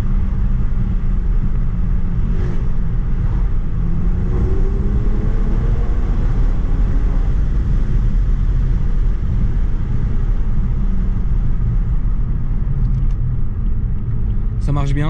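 Steady low engine rumble from an Alpina B4 car while driving, continuous and muffled beneath ongoing conversation inside the cabin.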